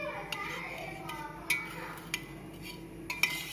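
A spoon stirs cardamom mix into a glass of rose milk, with scattered light clinks and taps against the glass, a few sharper strikes spaced a second or so apart over a quiet background.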